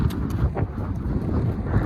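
Gusty wind on a mountain cycling route buffets the microphone with a low, rumbling roar that rises and falls without pause.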